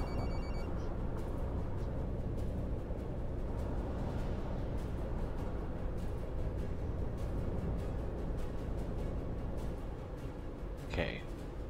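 A phone rings inside a coach in Fernbus Coach Simulator, the ring quiet and intermittent over a steady engine rumble, with a brief brighter tone near the end.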